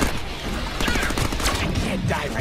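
A loud, continuous spray of rapid-fire shots from the Deadpool video game, with the crackling bursts tightly packed together.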